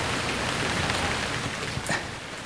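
Steady rain falls in a continuous, even hiss with no voices or thunder, a constant close wash of drops on surfaces throughout.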